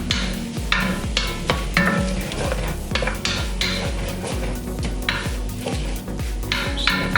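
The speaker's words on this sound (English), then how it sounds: "Just stir this up just until it browns." Spoon scrapes rhythmically around a pot as beef for stroganoff browns in butter, repeated clattering strokes over a steady close sizzle, with no talking.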